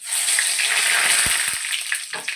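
Panch phoron and a whole bay leaf hit hot oil for a tomato chutney, giving a close, steady hiss of frying with a few sharp spattering pops over the crackle.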